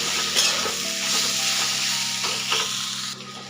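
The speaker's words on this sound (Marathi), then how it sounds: "1-2 मिनिटं छान मिडियम गॅसवरती परतून घेऊया भरीत वांग्याचं" Mashed roasted brinjal bharit being sautéed and stirred in a pan over medium gas with coriander, giving a steady close sizzle with scraping stir strokes, no voices.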